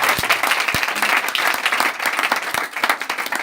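A church congregation applauds in a dense, lively burst of many clapping hands, with a few sharp low thumps near the start and crowd murmur mixed in.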